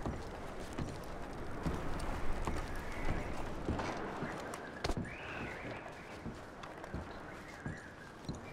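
Horses' hooves clip-clop in an irregular rhythm over a background wash of ambient noise, with a faint neigh partway through, in the video game Red Dead Redemption 2.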